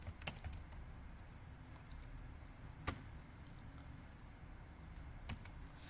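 Computer keyboard typing as code is written, a handful of faint, irregular key clicks and taps scattered over a quiet background with no talking.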